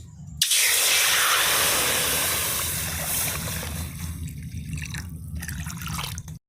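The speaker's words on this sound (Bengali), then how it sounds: "এখন জল দিয়ে দিচ্ছি ডালের জন্য" Water pours and splashes steadily into a cooking pot for masoor lentil dal with pumpkin, a close, continuous stream that slowly softens before cutting off at the end.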